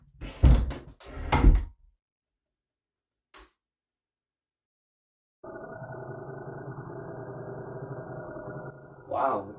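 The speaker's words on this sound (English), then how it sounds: "can you close the door?" A door is shut in a feature film scene, giving two solid knocks close together near the start, then quiet before a steady low mechanical hum takes over.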